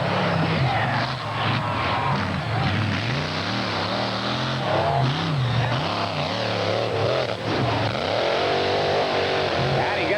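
A 1979 Chevy S10 monster truck revs its engine during a 1989 competition round at an off-road jamboree in Bloomsburg, Pennsylvania. Loud, continuous engine drone rises and falls in pitch, with a crowd and announcer-style voices mixed in throughout.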